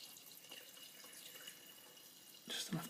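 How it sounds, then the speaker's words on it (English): Acetone poured into a bath over desoldered capacitors from a Juno 106 synthesizer repair, a soft continuous liquid trickle with a brief louder splash near the end. "And we just add acetone on top."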